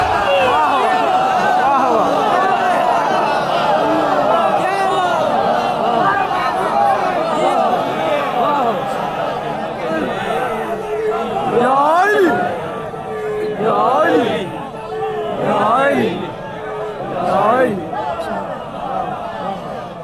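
Large crowd at a religious gathering of Hussain's mourners chants slogans together, a dense roar of many voices rising and falling in loud surges, with individual calls and a swelling response toward the end.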